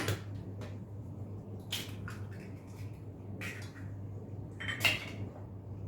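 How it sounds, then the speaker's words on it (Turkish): An egg is worked into gingerbread dough in a bowl, with soft scattered clinks and scrapes of a utensil and light squishy mixing over a steady low hum, fairly quiet and close. "Şimdi içine bir tane yumurta ekliyoruz"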